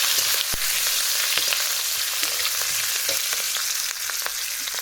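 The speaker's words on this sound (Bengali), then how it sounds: "আর এখন দিয়ে দেবো এই যে মাছ আর কাঁচা লঙ্কা দিয়ে তো ভালো করে নাড়াচাড়া দেবো" Fish frying in hot oil with green chillies and radhuni spice, a steady close sizzle running throughout with faint stirring scrapes and no talk.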